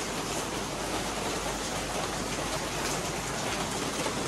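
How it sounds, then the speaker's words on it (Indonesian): Steady heavy rain falling in Solo, Surakarta, Indonesia, a dense, even wash of noise that stays loud and unbroken throughout with no other distinct sounds. "Ya, dibuka dengan hujan."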